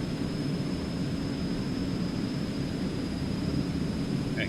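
An Eclipse 550 jet in X-Plane 11 climbs out of San Diego with flaps retracting, a steady broadband engine and air roar under a thin high whine, with no talking.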